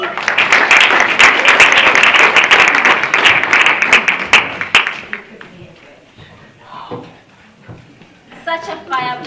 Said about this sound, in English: Another round of applause for Connie.